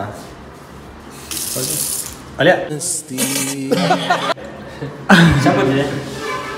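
Water gushes from a hotel washroom tap in short, uneven bursts, loud and close, with people talking and chuckling between the spurts.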